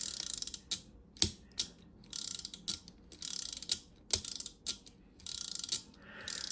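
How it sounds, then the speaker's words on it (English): Ratchet mechanism inside a Transformers Classics Optimus Prime toy, giving rapid close clicking bursts as the figure spins, repeated in short spurts with brief gaps. "it'll make him spin if it can engage the ratchet"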